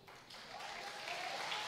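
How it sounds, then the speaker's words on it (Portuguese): An audience at a women's church congress claps, a brief burst of applause rising to a steady patter, moderately distant and fairly soft, with no talking over it. "pode aplaudir."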